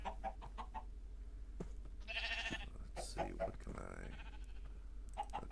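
Minecraft goat bleating in-game amid game sounds, with a voice talking over it; short bleat-like calls stand out around the middle of the stretch.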